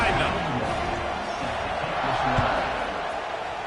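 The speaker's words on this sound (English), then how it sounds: "this crowd now ready to get behind them" A football stadium crowd at an LSU vs Clemson game swells in a broad, continuous roar beneath an announcer's commentary, with a faint thump partway through.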